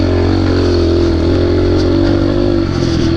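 A Kawasaki KLX 110 dirt bike engine revs loud and close, a steady buzzing drone with slight rises, no talk.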